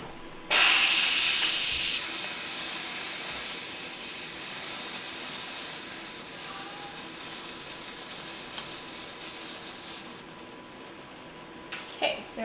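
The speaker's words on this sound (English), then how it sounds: "I am going to go release that pressure cooker so we don't overcook the pasta" Pressure cooker full of pasta venting steam, a loud hiss bursting in abruptly and then easing into a steady, softer rush that continues for about ten seconds before trailing off, with a few faint clicks at the end.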